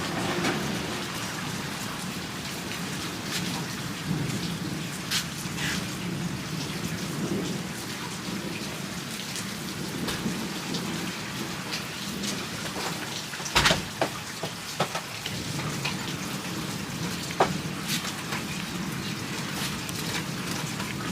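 Steady rain pours onto a front porch on a wet day, a dense continuous hiss with scattered louder drips and one sharp knock partway through, no voices present.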